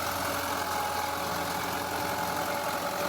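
Tractor running a rotavator while tilling a field, a steady, dense mechanical engine drone with continuous churning noise and no pauses.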